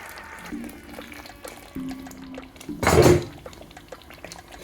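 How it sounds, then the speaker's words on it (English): Water is poured into a simmering chicken pasta sauce in a single loud, splashy pour lasting about a second, set against quieter kitchen clinks and a low background hum. "I'm going to add a little bit more water"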